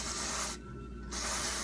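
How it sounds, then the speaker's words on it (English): Aerosol contact cleaner spraying into the four small holes and top of a Dared VP-20 volume potentiometer: a close, steady broadband hiss with a brief break in the middle before resuming. "spray in those 4 little holes on the volume pot, and I also spray the top also"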